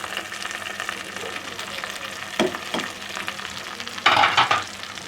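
Onions, tomatoes and spices fry in a hot pan for Arabian style bhindi, a close, constant sizzle with stirring and two louder bursts as ingredients go in.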